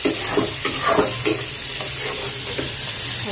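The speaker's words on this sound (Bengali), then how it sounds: "তো ভালো করে মশলাটা কষাবো।" Spice paste fries in oil in a pan with a steady, close sizzle while a spoon scrapes and stirs it in irregular strokes, and no one speaks.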